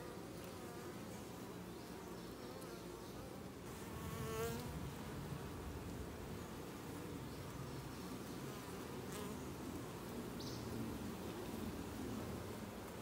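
Honey bees buzz densely and continuously around an open hive frame during an inspection, a close, steady droning hum with no talk.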